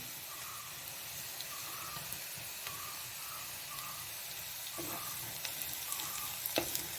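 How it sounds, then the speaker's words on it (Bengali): Chopped garlic frying with lightly browned onion in a pan gives a steady close sizzle throughout, with a few faint clinks of stirring near the end. "পেঁয়াজটা হালকা করে ভাজা হয়ে গেছে। এর মধ্যে দিয়ে দেবো আগে থেকে কুচনো রসুন।"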